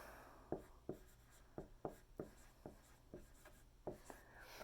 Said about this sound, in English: I'm going to write blood A.